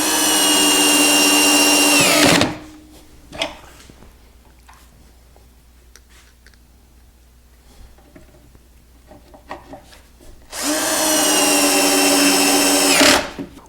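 A power drill drives pocket screws into a cabinet box held in box clamps, two loud sustained whining bursts of about two seconds and three seconds at the start and end, with quiet handling clicks and taps between.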